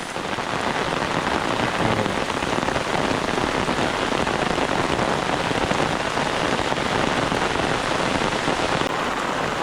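Heavy monsoon rain falls steadily and loudly on surfaces nearby. The dense, continuous hiss of drops goes on without a break and no voices are heard.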